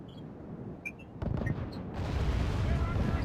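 Cannon artillery from a Holy Roman Empire army fires across a Medieval II: Total War battlefield. Muffled distant booms thud in a short cluster, then give way to a steady roar of battle noise while someone talks over it.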